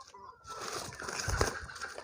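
Backyard hens on a traditional egg-laying farm cluck and rustle close by, with a low-level scratchy bustle that rises midway through a short stretch without talk.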